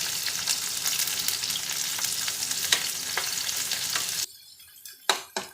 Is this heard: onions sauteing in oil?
yes